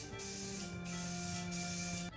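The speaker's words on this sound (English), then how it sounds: "we're all set to spray" Aerosol spray paint hisses through a cut paper stencil on a Mortal Kombat 3 diorama balcony piece, three steady close bursts separated by brief pauses.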